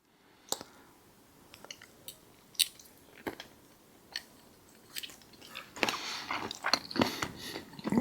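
Someone chews Cajun shrimp from a steak and shrimp bowl with chimichurri, giving close, soft, irregular bites and wet crunchy chewing that grows busier and louder toward the end.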